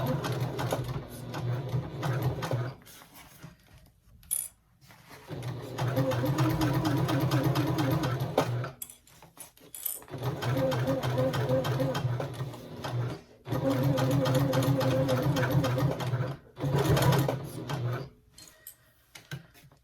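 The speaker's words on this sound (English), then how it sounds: "And I'm gonna back tack also." A domestic sewing machine stitches and back tacks fabric for a tote bag, running in several bursts of steady whirring with brief pauses between as the fabric is pivoted.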